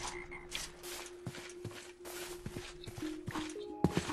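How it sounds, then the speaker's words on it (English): A Harlequin Toad in the Betweenlands world of the Minecraft video game gives repeated croaks in a steady rhythm over soft footstep-like game sounds. Faint talk is heard, and there is a brief louder clatter near the end. "the Harlequin Toad totally just killed a crab"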